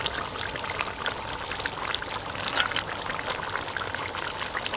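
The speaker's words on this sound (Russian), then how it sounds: "Это слишком сильное бульканье" Zirvak for Uzbek lamb plov bubbling hard in a kazan over a campfire, a dense, steady seething and popping that fills the whole stretch, close and fairly loud.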